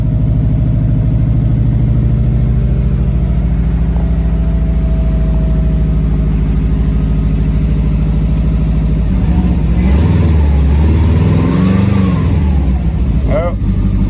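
An old car engine in freezing weather idles with a loud, steady low rumble, then revs up in a couple of rising surges later on, recorded close by, with talk partly over it.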